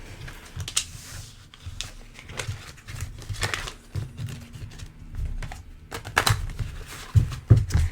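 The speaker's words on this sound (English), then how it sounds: "let's shuffle these back into the deck and get some more" Tarot cards riffle and tap softly in irregular bursts of light clicks and rustles as they are shuffled close by.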